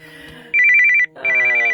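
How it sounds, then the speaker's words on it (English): A phone rings with an incoming call despite Do Not Disturb being on, sounding as two loud, close bursts of a rapidly trilling electronic ringtone separated by a short gap. "apparently a phone call got through anyway"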